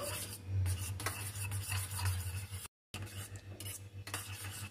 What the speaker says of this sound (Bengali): এখন সব কিছুর সাথে ডিমটাকেও ভালো করে ফেটিয়ে নেব।